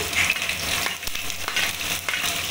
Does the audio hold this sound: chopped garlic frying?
yes